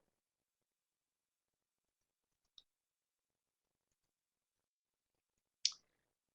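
Computer mouse clicks while using a database search page: two isolated, quiet, crisp clicks a few seconds apart in near silence.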